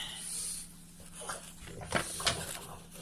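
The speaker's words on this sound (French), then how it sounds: "Et bien sûr, ils font aboyer." Two dogs playing boisterously, with short yelps and barks rising over a low steady hum, a few sharp bursts near the end.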